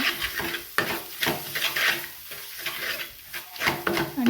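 Soybean fry being stirred in a pan with homemade black masala, low oil: a close spoon scraping and turning in bursts, with faint sizzling and utensil clinks, no talk.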